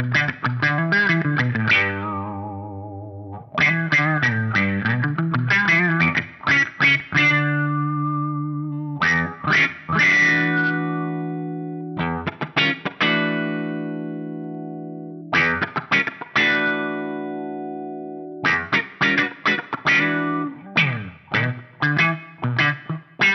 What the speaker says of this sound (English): Really cranking this is going to give you that big kind of silky vocal sound out of the filter.